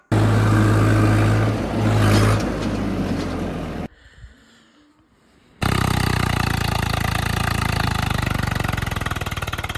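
Swaraj and Massey tractor engines straining during a towing contest, loud rough diesel roar that cuts to near silence for a couple of seconds, then returns at full, steady, throbbing power.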